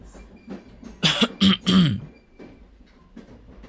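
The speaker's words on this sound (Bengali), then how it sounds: "ভদ্রলোক সামান্য কেশে গলা পরিষ্কার করে নিয়ে বললেন" A man gives a few short coughs and clears his throat, close by, followed by quiet breathing.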